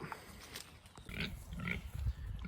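A pig on a homestead farm grunts a few times at close range, with short low snorts spread across a brief stretch of outdoor background noise.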